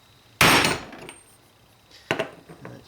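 Metal strikes driving a 30mm socket against a transmission bushing during a 42RH/A500 rebuild: one loud sharp clang with a ringing tail, then a softer cluster of lighter taps a moment later, no talking.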